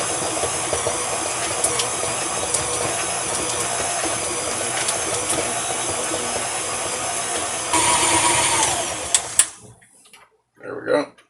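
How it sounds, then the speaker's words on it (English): An electric mixer whirs at low speed as it beats butter for white chocolate macadamia nut cookies, a steady hissing drone for about eight seconds that then cuts out, with a faint voice nearby. "we're going to start off beating just the butter on low"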